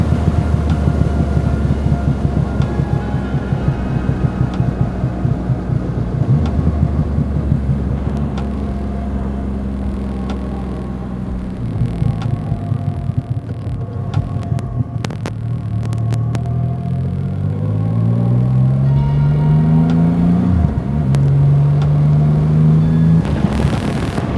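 A Triumph Rocket 3 R Black Limited Edition motorcycle during running-in, its big engine droning loud and steady under wind rush, with the pitch climbing in repeated rising sweeps as it accelerates through the gears.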